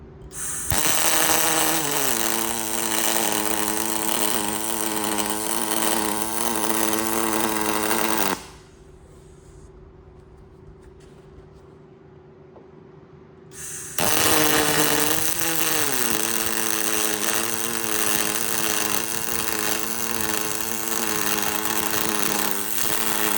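Aluminium seat and bait board pole being welded, a loud continuous buzzing arc with steady harmonic drone, broken by a brief quieter pause before the weld resumes and runs on to the end.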